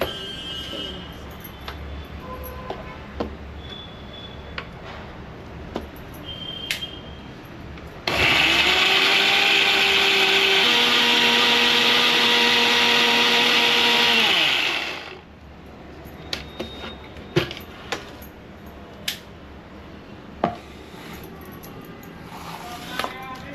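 A mixer grinder whirs loudly for about seven seconds, grinding rice flour into a paste with a little water, then winds down. Quieter kitchen clatter comes before and after.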